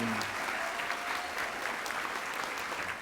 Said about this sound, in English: One more round of applause for the Case Western Reserve University PA program, class of 2027